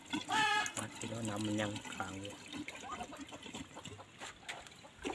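Water gushes in steadily from a motorcycle-powered water pump, a continuous watery rush running beneath a man's close, talkative voice for the whole stretch.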